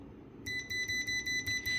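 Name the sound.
UNI-T UT61E+ multimeter continuity beep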